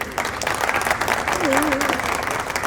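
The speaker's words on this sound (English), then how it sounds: "a huge round of applause for all of them" A crowd at a trailer launch event for Khakee: The Bengal Chapter claps loudly and continuously, a dense wash of applause filling the space without pause.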